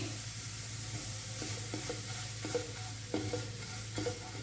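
Vermicelli is dry-roasted in a pan, heard as faint, intermittent dry scrapes and rustles of stirring over a steady low hum.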